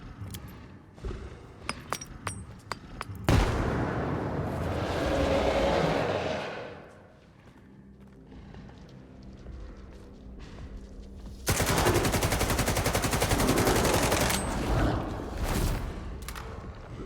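In the S.T.A.L.K.E.R. 2 video game, a broken AK fires scattered shots, then a grenade blast booms and rumbles. After a quieter stretch, a long, loud burst of automatic fire rattles close by, with brief single shots after it.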